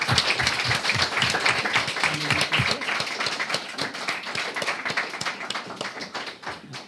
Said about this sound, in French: je propose qu'on applaudisse très fort Prokop and the Alrights encore une fois